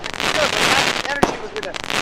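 Fireworks crackle and pop loudly nearby in a dense, continuous barrage with one sharp sudden bang, while people talk over the noise.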